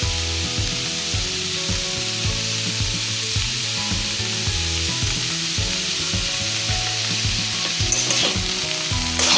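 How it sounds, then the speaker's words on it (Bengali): Vegetable rice sizzles steadily in a frying pan while a utensil stirs and scrapes through it in a quick repeating rhythm, close and continuous with no voices. "এটা একটু জাস্ট একটু নাড়াচাড়া করে নেব।"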